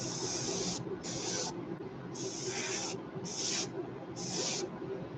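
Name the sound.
old lure paint spraying from a sprayer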